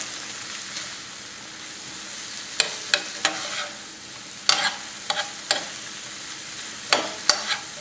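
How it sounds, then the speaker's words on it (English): Ramen noodles with soy sauce and brown sugar are tossed in a pan under a soft, constant sizzle, punctuated by irregular sharp clacks and scrapes of utensils against the pan. "we start to toss it to get the soy sauce, the brown sugar, all mixed through the ramen"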